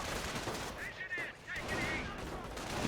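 Battle gunfire in the strategy video game Company of Heroes, with sniper fire among it: quiet bursts of shots and distant explosions, partly mixed with a speaking voice.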